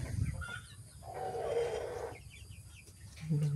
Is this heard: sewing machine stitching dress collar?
no